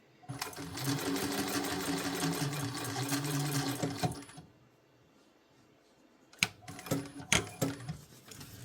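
A sewing machine runs a steady stretch of stitching around the edge of a wallet, pauses, then starts again in short rattling bursts; nearby and fairly loud, with no talk.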